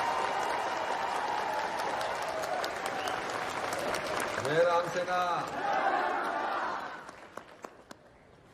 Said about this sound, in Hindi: तहे दिल से बधाई देते हुए जोरदार तालियों के साथ स्वागत करते हैं श्री दिनेश शाह जी का।